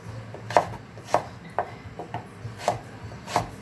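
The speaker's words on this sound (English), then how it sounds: "I'm basically chop these carrots into strips" A knife chopping carrots into rough strips on a board, six sharp close thuds at a fairly even, unhurried pace, no talking.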